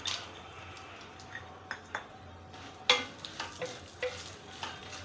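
Cashews, walnuts and pistachios fry in a pan for fenugreek laddoos, a low, soft sizzle under a faint hum, punctuated by several sharp clicks and taps of a utensil against the pan.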